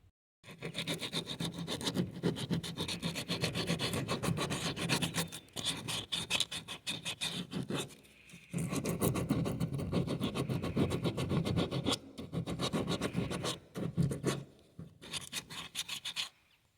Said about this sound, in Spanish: una vez que lo has terminado de lijar